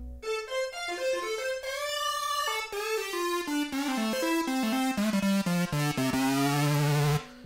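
Dry synth lead patch built in Serum, with no effects, plays a quick melodic line of gliding, bright notes that steps downward before settling on a low sustained tone, loud and alone.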